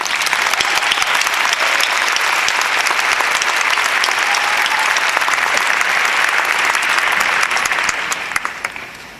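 Steady, full applause from a commencement audience at Edgewood College greeting a graduating speaker, dense clapping holding strong throughout before tapering slightly at the end.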